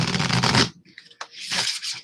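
A deck of playing cards being shuffled during a morning session, with dense riffling bursts at the start and end separated by a brief quieter gap, close and fairly loud.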